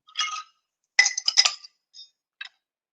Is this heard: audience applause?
no